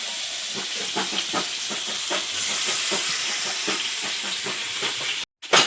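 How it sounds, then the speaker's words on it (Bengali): Snakehead (shol) fish frying in hot oil, a steady loud hiss and sizzle running throughout with scattered crackles and pops, broken by a brief cut near the end. "শোল মাছগুলো প্রথমে ভেজে নিচ্ছি"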